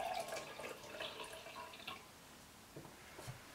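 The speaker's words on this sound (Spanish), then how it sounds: "Ahora pondremos agua en los 3 vasos de la misma cantidad de agua." Water poured into three glasses, a faint splashing trickle that starts fuller and tapers into soft drips and small clinks, quiet and close in a calm room.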